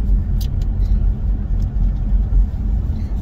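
A car driving past a school, heard from inside as a steady low engine and road rumble, fairly loud and continuous, with a few light clicks or taps above it and no talking.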